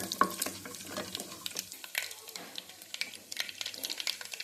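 Mustard seeds and tempering spices crackle and pop in hot oil in a pan for a Telugu methi dal, a quick, irregular run of sharp spluttering pops.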